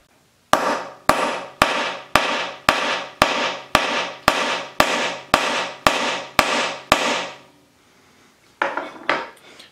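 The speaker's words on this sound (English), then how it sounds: "So if I hit this thing as hard as I can, it will definitely drive a nail." A hand-cast resin hammer strikes a nail twelve times in a steady, evenly spaced rhythm of sharp, loud, ringing impacts. After a short pause come two softer taps.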